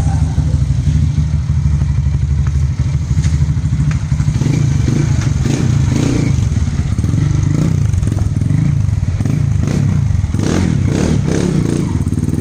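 A 2014 Honda Titan 150 Flex with a 190cc kit and an adapted CB 300 throttle body runs close and loud, a steady rapid engine pulse with irregular revving bursts and mechanical clatter, no talking.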